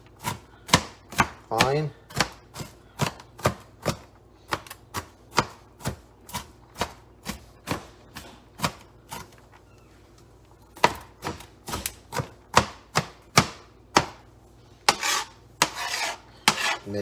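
A knife chops ingredients on a cutting board for a burger in sharp, rapid, evenly spaced thuds, close and loud, with a brief pause partway and a few scraping strokes.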